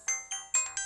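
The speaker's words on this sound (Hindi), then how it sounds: "अरे विष्णु सुंदर का कॉल आ रहा है, जरा गाड़ी साइड में खड़ी कर।" A phone ringtone plays four quick, evenly spaced bright chiming notes, loud and close.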